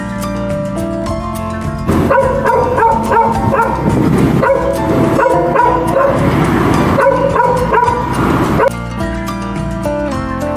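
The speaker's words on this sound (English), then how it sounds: "Dog." A dog barks and yips repeatedly over a stretch of several seconds, loud and close, with a musical backing continuing before and after.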